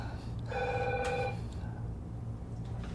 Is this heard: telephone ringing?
yes